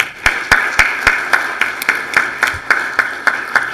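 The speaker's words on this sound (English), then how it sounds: "Let's give everyone a round of applause." At a legislators' Jewish Heritage celebration, claps sound in a steady, evenly spaced rhythm of about four per second, loud and close, over a sustained tonal hum.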